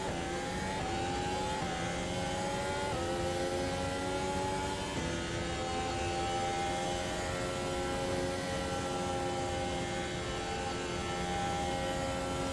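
A Formula 1 car in the Automobilista 2 racing game running flat out at top speed with DRS open, its engine a sustained high-pitched whine that steps up through several gear changes early on, then holds one steady, loud tone.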